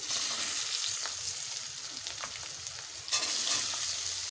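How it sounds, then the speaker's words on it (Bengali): Chopped onion and garlic fry in hot oil for a rui fish curry, giving a steady loud sizzle with occasional stirring scrapes and a brief surge near the end. "পেঁয়াজ রসুনটাকে লাল লাল করে ভেজে নেব।"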